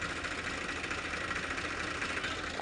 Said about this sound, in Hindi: अभी दोनों ट्रैक्टर स्टार्ट है